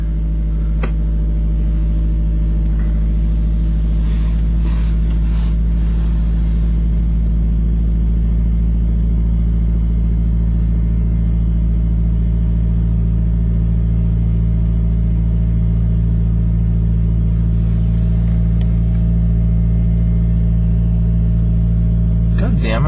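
A red 1994 Ford Probe with the 2.0 engine idles after a cold start, its first run in months and with 155,782 miles on it, giving a loud, steady low rumble throughout with slightly sluggish revs and faint talk over it.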